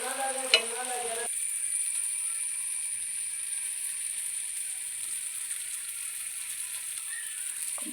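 Beef fry sizzling in a pan as it is stirred, a steady broadband hiss, with a brief clatter near the start.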